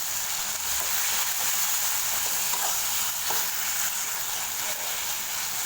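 Tomatoes with a little salt sauté in a pan for tomato rice, giving a steady, close, crackling sizzle that holds evenly throughout with no voices.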